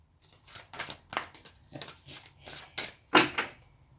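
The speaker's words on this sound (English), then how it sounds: "These cards, I just find it so hard to shuffle them." Irregular papery slaps and swishes of large tarot cards being shuffled up close, several separate bursts with a louder snap near the end.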